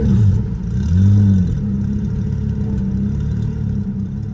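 A Pagani Zonda engine in the video game Greenville, a low mechanical drone that swells in a brief rev near the start and then settles into a steady idle-like hum, loud and close with no speech.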